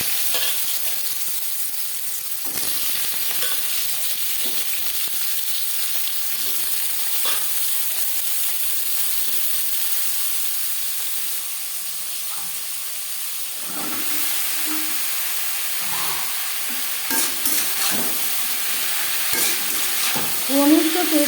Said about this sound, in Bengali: ফোড়নের সাথে কুমড়ো বেশ ভালো করে মিক্স করে দেবো